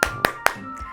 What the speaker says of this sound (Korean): 다들 박수로 축하해주세요.